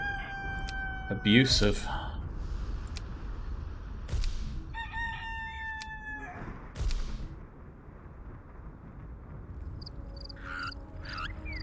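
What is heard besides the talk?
rooster crowing in the video game Black & White 2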